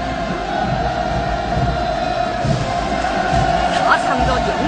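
A large crowd cheering at a military parade on a celebration square, a steady roar of voices running throughout, heard under a narrator speaking.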